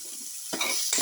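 Garlic tomato mixture sautés in a pan after salt goes in, a soft steady sizzle broken twice by louder scraping stirring bursts close up.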